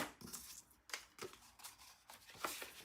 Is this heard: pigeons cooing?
no